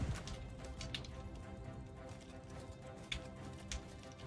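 Horse hooves clip-clop in the medieval battle game Bannerlord during a field battle, a quick, quiet rhythmic galloping over faint background clatter and din.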